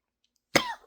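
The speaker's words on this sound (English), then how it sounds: "I'm still coughing, but I'm doing better now." A single sharp, close cough from a person recovering from an illness, bursting out of silence and trailing off quickly.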